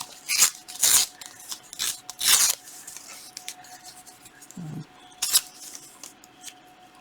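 Foil tape being handled and applied, heard as several loud crinkling, tearing bursts at close range separated by quieter pauses.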